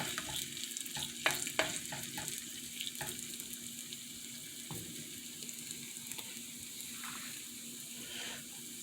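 Flattened dough fries in a pan over low heat, giving a faint, steady sizzle with a few soft clicks and scrapes of the pan.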